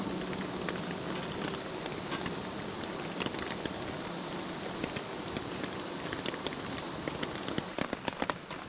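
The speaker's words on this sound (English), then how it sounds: "it's raining on and off here." Steady rain falls on a damp campsite in the Carrabassett Valley during a thunderstorm, a dense continuous hiss with scattered sharp drops ticking close by on nearby surfaces, growing patterin near the end.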